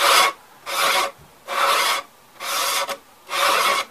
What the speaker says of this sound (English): I am going to sand the edges